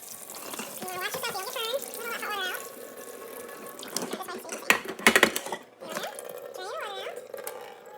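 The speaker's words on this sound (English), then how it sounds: "We're gonna drain the water out." Hot water drained from a pot of hard-boiled eggs into a sink, a splashing pour with metallic clatter in the middle, under a voice speaking with rising, sing-song inflection.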